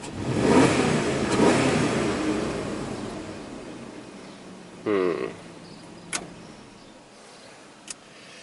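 A Dodge truck engine with a stalling fault revs loudly and rough at the start, then drops away to quiet with a few brief squeaks and clicks.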